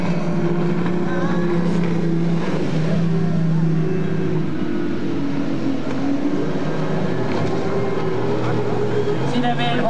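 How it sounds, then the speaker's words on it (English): Big V8 racing powerboat roars on the water at a 1995 West Virginia show, a loud steady engine drone throughout with announcer talk over it. "Here he comes in that big V8."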